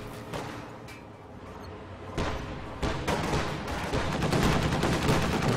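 Rapid machine gun bursts rattle from an AA half-track in a Company of Heroes 2 battle, repeated sharp volleys building louder and denser over a rumbling battlefield.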